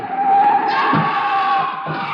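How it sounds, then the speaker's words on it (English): Car tires squeal loudly in a sustained skid as a car tries to run a man down in a street, the screech wavering in pitch with a couple of low thumps underneath. "That car is trying to hit him."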